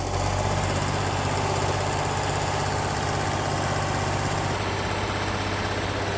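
A heavy HTZ 150 tractor engine drones loudly and steadily at close range while driving through mud, a constant low rumble with vibration and no voices.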